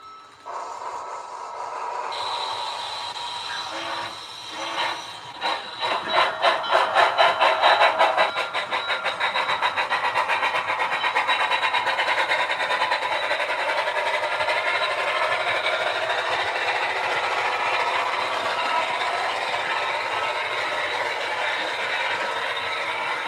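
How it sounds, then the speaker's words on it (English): A model train runs along a layout with a steady whirring motor hum and a quick run of rhythmic rail clicks as it gets moving, close and continuous with no talking. "All right, let's get this train on the road."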